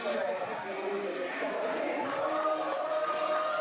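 At a New York Championship Wrestling show, the crowd keeps up a constant loud roar of cheers and chanting. A commentator talks over the top of it.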